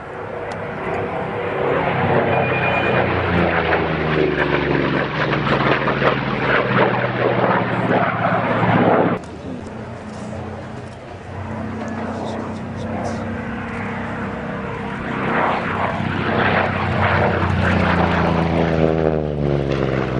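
A Vought Corsair with its Pratt & Whitney radial engine roars past at an air display, a loud, steady propeller drone that shifts in pitch midway, with a public-address commentator talking over it throughout.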